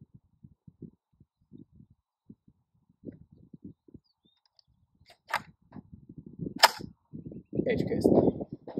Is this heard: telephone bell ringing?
no